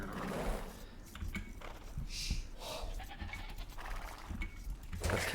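Sheep bleat in the Age of Empires strategy game, a few faint bleats scattered over quiet game ambience with soft clicks and rustles.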